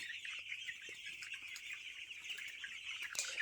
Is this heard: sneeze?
no